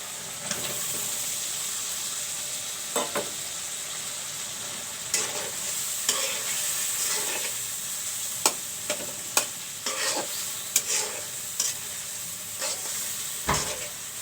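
Cut potatoes frying in a pan with a steady bright sizzle and hiss, punctuated by occasional scrapes and clicks as they are turned, with no speech.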